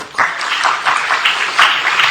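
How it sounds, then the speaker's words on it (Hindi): An audience claps steadily at a Bait Bazi 2025 results and certificate event in Aurangabad, India, with dense applause swelling in a few waves and no talk over it. "उनके लिए तालियां"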